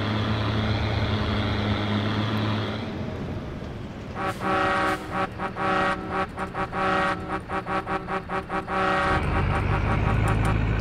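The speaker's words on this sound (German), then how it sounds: "Svenny und die Hupe, ne?" A vehicle horn in the farming game Farming Simulator 22 blares in a rapid series of short honks over a running engine, loud and close, with no talk.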